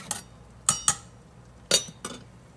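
A spoon stirring blueberries in a metal double boiler for a cobbler: a few sharp metallic clinks and scrapes against the pot, spaced irregularly, close and clear with no talk.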